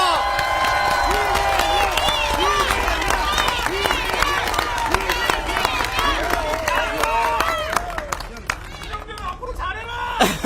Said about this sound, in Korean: 다시 한번 이재명 연호로 박수 부탁드립니다.